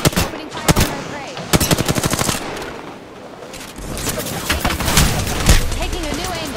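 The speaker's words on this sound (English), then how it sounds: "Opening fire on our prey." Rapid automatic gunfire from the battle royale shooter video game Apex Legends, in several loud bursts of repeated shots separated by brief lulls, close and dominant; no talking.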